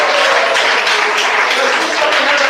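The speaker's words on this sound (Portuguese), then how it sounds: "Palmas e glória a Jesus." A church congregation claps in a dense, continuous burst of applause that fills the room from start to finish.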